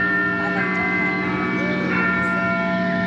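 The bell in Legoland California's miniature Elizabeth Tower (Big Ben) chimes with loud, sustained ringing tones that overlap and hum continuously without a break.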